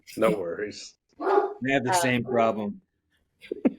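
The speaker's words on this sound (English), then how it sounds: "Sorry if you hear my dog in the background." A dog barks several times indoors, loud, sharp yelps in short bursts, with a person talking between and over the barks.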